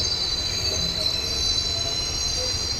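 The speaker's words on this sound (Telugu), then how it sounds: "ట్రైన్ అయితే మండపం నుంచి స్టార్ట్ అయిపోయింది" Passenger train rolling from Mandapam toward the Pamban bridge, its wheels giving a steady high squeal over a continuous low rumble of carriages, heard from onboard without any talk.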